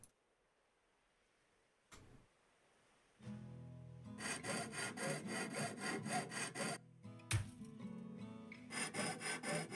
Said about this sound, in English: Finally found something I can use the hacksaw with.